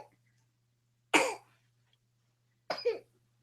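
Two separate coughs, close and fairly loud, with a short silence between them over a faint steady hum.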